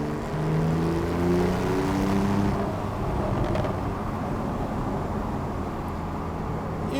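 Porsche 911 Carrera GTS 991.2 convertible with a manual gearbox, its engine a steady droning hum heard from inside the open cabin, slightly louder early on and then settling into an even cruise with road noise underneath.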